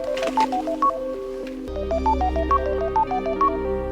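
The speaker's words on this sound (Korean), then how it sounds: "말만 하면 걸려오는 전화." A mobile phone ringing for an incoming call, a bright melodic ringtone of repeating electronic note patterns playing loud and close, continuing steadily without any talk.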